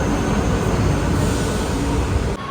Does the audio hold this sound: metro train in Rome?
yes